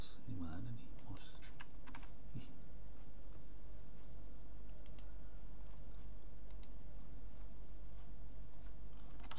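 Keys on a computer keyboard are tapped in quick scattered clicks as a sudo command is typed, close over a low steady hum, with a short voice at the start.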